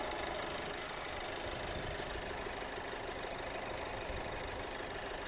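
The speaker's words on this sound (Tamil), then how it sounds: "இன்ஜின் ரன் ஆகிட்டுருக்கு." A petrol Hyundai Verna engine idles steadily, a continuous low rumble with a faint mechanical ticking, close by and unbroken throughout.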